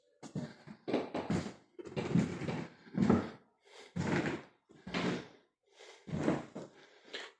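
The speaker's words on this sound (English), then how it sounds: "Squeaky floorboards." Old wooden floorboards in a historic hall creak and groan under footsteps, a run of irregular squeaks and thumps close by, each step drawing a drawn-out creak with short pauses between.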